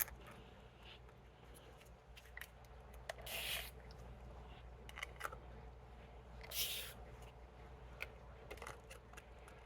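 Weak peroxide solution sprayed from a bottle while potting a Murasaki Purple pepper, two short hissing bursts several seconds apart over a quiet room with small handling clicks.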